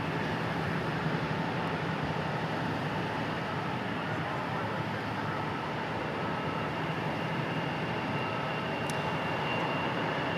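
An aircraft departs at DFW International Airport, a steady distant engine roar held at an even level across the whole stretch, with no talking over it.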